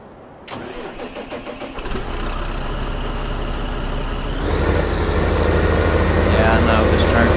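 Tractor engine in Farming Simulator 2015 starting up and settling into a steady mid-pitched running drone that grows slightly louder, with faint talk underneath.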